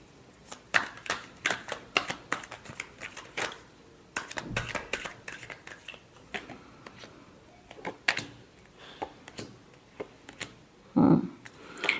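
Tarot cards being shuffled by hand in a final shuffle: a close series of crisp riffling flicks and slaps, irregular bursts with short pauses and a louder rustle near the end.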